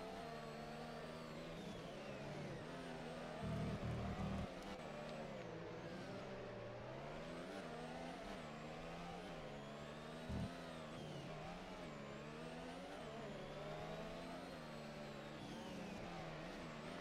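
Formula 1 race car engines scream in a Nintendo Switch racing game, a continuous high-pitched whine that climbs and drops with gear shifts, with a couple of brief thuds and no talking.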